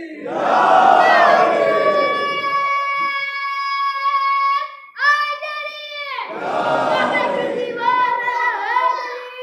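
A crowd shouts a drawn-out religious chant in unison, loud and sustained, pausing briefly before the voices surge again together.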